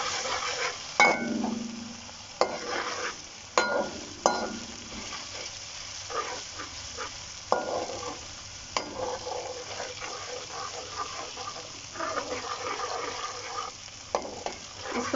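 Garlic ginger paste fries in a pan for chicken biryani, with a steady sizzle under repeated scraping spoon strokes as it is stirred close by, and no speech.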